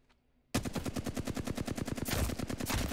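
Rapid automatic gunfire in the video game Apex Legends, starting after a brief silence and continuing as a loud, steady stream of closely spaced shots for about two and a half seconds.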